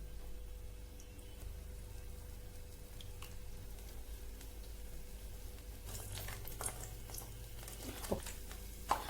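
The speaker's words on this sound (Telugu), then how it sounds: "ఓకే అండి, ఇవి మీడియం ఫ్లేమ్లో ఫ్రై చేసుకోవాలి." Potato bajji sizzle quietly in hot oil on a medium flame, a soft steady crackle and patter that grows busier with sharp pops toward the end.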